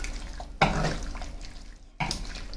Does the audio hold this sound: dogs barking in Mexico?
no